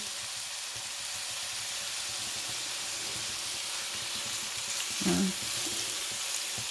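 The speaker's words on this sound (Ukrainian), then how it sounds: "підсмажуємо на середньому вогні" Continuous close sizzling of meat rolls frying in a pan over medium heat, with a brief louder clink and bubbling burst near the end.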